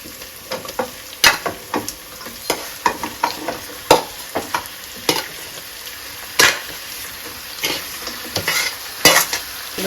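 Marinated country chicken with curry leaves fries in oil while a spoon repeatedly scrapes and knocks against the pot, rhythmic close stirring strokes over a constant sizzle.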